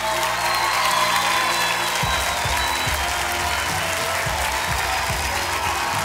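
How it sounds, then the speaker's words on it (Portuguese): A studio audience at a televised singing competition show applauds and cheers loudly and continuously, with whoops rising over the clapping and music-like tones underneath. "Uma grande salva de palmas para a Nádia!"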